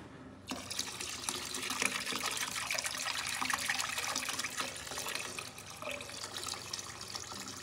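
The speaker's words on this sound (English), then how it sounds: "Pour the water straight on the floor just like that." Water is poured from a container straight onto an epoxy-coated floor for cleaning, a steady close splashing and trickling that starts abruptly and runs without a break, with no voices.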